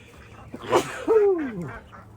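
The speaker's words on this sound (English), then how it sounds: "So back here, we have our 7 egg laying ducks." An egg-laying duck quacks nearby, a couple of loud raspy calls with a falling tone, heard clearly over quiet background.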